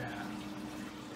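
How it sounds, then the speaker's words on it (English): Moosehead Cranberry Radler pours from the bottle into a glass with a steady, close gurgling stream of liquid, continuous and fairly quiet. "So let's pour it into a glass, see how it smells, we'll see how it tastes"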